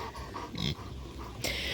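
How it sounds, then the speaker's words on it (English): A large pet dog of about 100 pounds pants rapidly and rhythmically at close range, with a few sniffs and small whimpery breaths, and no talking. "I have such a good dog."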